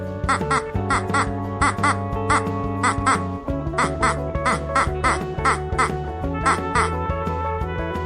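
A duck quacks in a regular run of sharp, nasal calls over a steady tonal musical backing, with a brief pause near the middle before the quacking resumes at the same loud, even pace.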